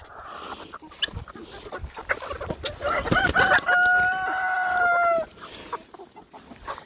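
Chickens at a homestead hoop coop cluck softly and scatter short calls, then a rooster lets out one loud, drawn-out crow near the middle that holds for a couple of seconds before the clucking resumes.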